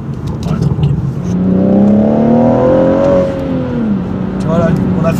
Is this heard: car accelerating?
yes